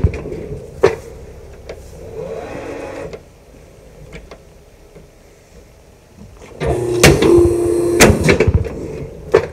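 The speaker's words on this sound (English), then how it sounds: "this is our traditional straight edge guillotine style cutter" A straight-edge guillotine cutter slices through printed plastic cards, with a couple of sharp close chops early on, a quiet stretch, then a louder burst of mechanical clunks and thuds near the end.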